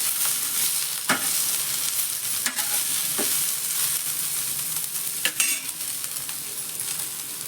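Onion fries in hot oil with whole spices and a bay leaf, giving a steady sizzle. A utensil scrapes and clinks against the pan a few times, close by, with no talking.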